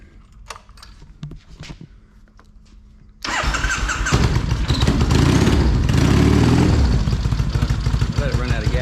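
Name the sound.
1999 Harley-Davidson Sportster motorcycle engine starting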